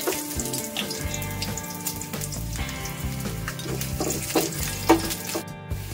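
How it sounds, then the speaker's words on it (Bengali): Ginger and garlic frying in hot oil left over from browning onions for a paneer masala, a steady close sizzle with bubbling and faint clinks of a utensil, no voices. "ওই তেলেই আমি আদা আর রসুনটাকেও ভেজে নেব।"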